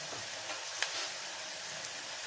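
Onion vada frying in hot oil in a small pan, a steady broadband sizzle throughout with a couple of brief sharp pops, close and alone with no talk.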